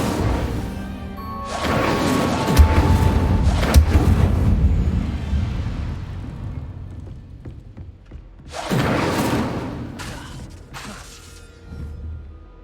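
Incendio fire spell cast in Hogwarts Legacy, loud whooshing bursts and crackling flares in two separate waves with mechanical thuds between, little talk.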